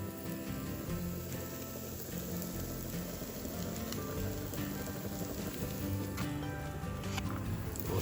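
Onions frying in a cast iron pot during outdoor cooking, giving a steady dense sizzle and crackle with scattered pops that carries on without pause, with no talk over it.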